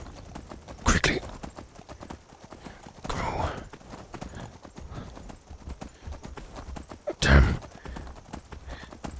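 Horses gallop in Skyrim, a fast steady clip-clop of hooves throughout with a couple of loud whinnies, as a voice speaks briefly over the hoofbeats.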